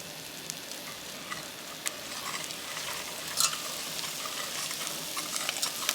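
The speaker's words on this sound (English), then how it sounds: "Mixing when I do this." Milk at a slight simmer in a pot being stirred, a steady soft sizzling hiss with faint scraping and small ticks throughout, fairly quiet and with no talking.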